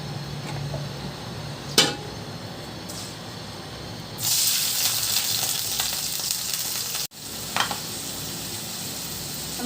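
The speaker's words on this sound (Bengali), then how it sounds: "আমি লবণ দিয়ে চাল ভাজি," Polao rice frying in oil with salt gives a steady sizzle that swells louder partway through, with a few sharp stirring scrapes and a brief dropout, no talking.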